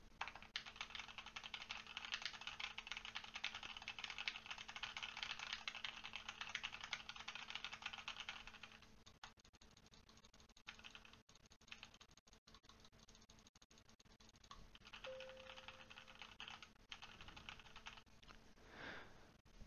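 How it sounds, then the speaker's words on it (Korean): Keyboard keys and mouse buttons clicking, picked up by a HyperX Cloud Stinger Core Wireless headset's unidirectional condenser mic, a faint, busy run of light taps and clicks that thins out midway before returning briefly, with no voices. "그러면 키보드와 마우스 버튼을 눌러보겠습니다."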